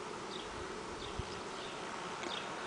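Honeybees buzz around a hive in a soft, steady hum, faint and continuous, with a few brief louder passes of single bees.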